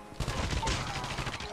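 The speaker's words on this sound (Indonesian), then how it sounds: "Dia kan yang nembak kita ya." Gunfire in COD Mobile: a dense burst of automatic shots crackling almost nonstop, fairly close and loud, with faint game noise underneath.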